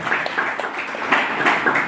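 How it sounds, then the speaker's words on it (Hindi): An audience at a health and wellness program in Ghazipur applauds an auto driver, producing a brief burst of fairly soft, dense clapping with no voices over it. "चलिए सर के लिए एकदम ताली बनती है"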